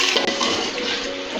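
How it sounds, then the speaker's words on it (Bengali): Hot water pours steadily into a pan of radish curry with shrimp, a continuous close splashing, rushing stream lasting the whole moment without talk. "গরম পানি দিতেছি"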